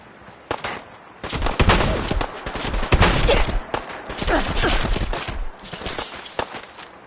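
Rapid bursts of automatic gunfire from the video game Fallout 4, loud and close, with sharp individual shots breaking through dense sustained firing across most of the stretch.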